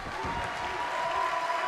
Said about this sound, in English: The crowd cheering Storm on, trying to will it to a victory.